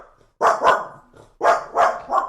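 A dog, a mixed-breed female, barks in two clusters, two sharp close barks and then three more after a short pause, loud and with no talk.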